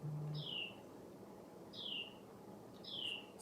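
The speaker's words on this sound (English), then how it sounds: "there's a little bird outside sitting on my tripod" A small bird chirps outside, giving three separate descending tweets at an even spacing, faint and a little distant over a low background hum, with no voices.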